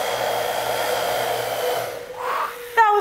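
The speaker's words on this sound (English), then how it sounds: "It sure takes a lot of energy to run a hair dryer, even on low heat" A pedal-powered hair dryer running on low heat gives a steady, loud, close whirring blow with a constant motor hum, wavering and dipping near the end before a sharp click as it switches off.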